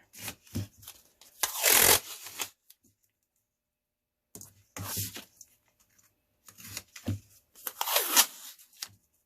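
Three bursts of painter's tape being ripped from a roll, each a loud rasping tear with softer handling sounds between as it is applied, separated by short silences.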